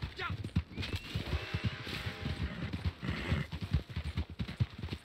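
Horse hooves clip-clopping in Red Dead Redemption 2, a rapid, uneven clatter of hoofbeats running throughout with a faint whinny-like tone, under someone talking.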